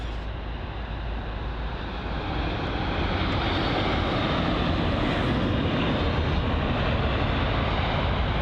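A United Boeing 787-9 Dreamliner jet arriving at London Heathrow after a flight from Los Angeles, heard as a steady, loud broadband engine roar that swells slightly and holds throughout with no talking.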